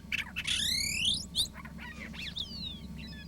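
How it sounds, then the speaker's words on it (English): A western meadowlark sings a bubbling, flute-like phrase of clear whistled notes and slurred trills, followed by shorter warbling fragments, heard close over a low background hum. "its beautiful, bubbling, flute-like song is there for everyone to hear and enjoy"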